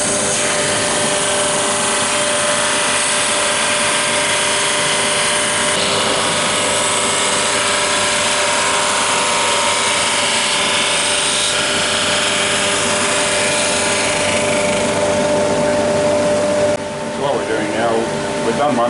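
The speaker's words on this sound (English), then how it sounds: "through the drum sander, and what that does is just initially give a sanding on both sides of the surfaces" Drum sander taking wooden box pieces for dovetailed boxes through its rough first pass, a loud, continuous roaring whine that holds steady throughout, with faint talk near the end.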